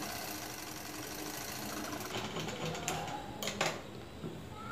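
A sewing machine stitches a folded quarter-inch hem on a petticoat frock, its rapid mechanical whirr running continuously and close up with a few brief clicks and knocks near the end, no voices.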